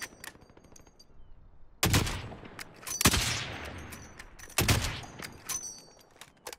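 Gunfire in a Call of Duty: Warzone trios match: three loud, sharp bursts of automatic shots, each a cluster of rapid reports with a decaying tail, separated by quieter in-game ambience, with no talk.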